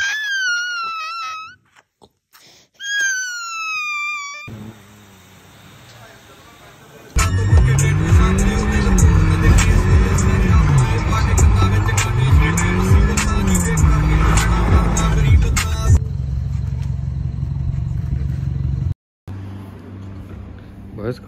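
A BMW car engine that has sat unused for some time starts, then runs loud and close, its pitch rising and falling with repeated revs over a rough, steady roar before it cuts off.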